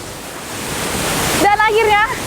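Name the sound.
Pelangi waterfall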